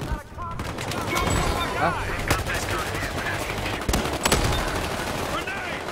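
Dense, continuous gunfire from Battlefield Hardline, with rapid automatic bursts and sharp single shots layered over a loud, busy game soundscape, while a player's voice briefly speaks over it.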